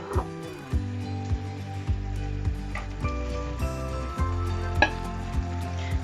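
Part-boiled potatoes sizzle in a pan of cauliflower in sauce, a steady hiss broken by repeated tapping and scraping as they are stirred in, with no voices.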